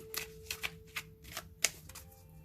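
Oracle cards are shuffled and slid from a deck in a series of sharp, close riffling flicks and taps, with a faint steady tone underneath.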